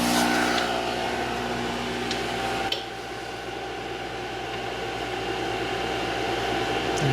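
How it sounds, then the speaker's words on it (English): A generator charging a 48-volt LiFePO4 battery system runs at half choke, giving a steady, droning engine hum with a single brief knock partway through and no voices. "Just for fun, we'll see how long it runs half choke"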